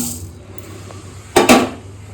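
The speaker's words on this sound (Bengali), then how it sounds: "চলো চালটা দিয়ে দিলাম" Raw rice tipped into a kadai for dry roasting makes a short, loud rattling rush of grains hitting metal, about a quarter second long, after a quiet stretch.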